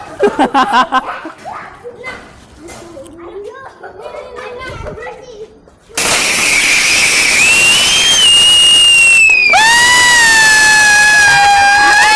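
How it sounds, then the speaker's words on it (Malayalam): Diwali firecrackers go off after children chatter and laugh, giving a loud, sustained hissing roar with shrill rising whistles, close by. "ഞങ്ങളുടെ കയ്യിലുള്ള പടക്കങ്ങളെല്ലാം പൊട്ടിച്ച് തീർന്നതിന് ശേഷം"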